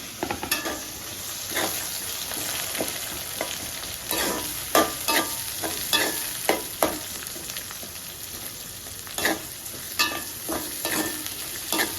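Onions, curry leaves and green chillies fry in a pan with a steady crackling sizzle, broken by repeated scraping stirs of a spoon against the pan, no voices.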